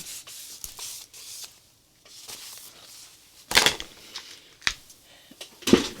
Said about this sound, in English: So I'm just cleaning it off my scraper.